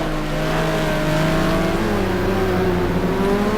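Race cars lap the Spa circuit in a sim racing game during an endurance round. Engines drone continuously and loudly, pitch rising and falling as they accelerate, with faint tire noise. No one speaks.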